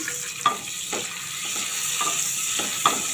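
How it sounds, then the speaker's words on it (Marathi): Whole spices, black peppercorns, green cardamom and bay leaf, fry in oil on low heat in a pressure cooker for matar soya pulao, a soft steady sizzle with a few light spatula taps, close by and without speech. "ते खडे मसाले ना परतून घ्यायचे आधी"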